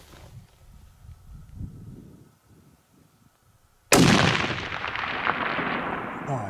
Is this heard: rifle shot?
yes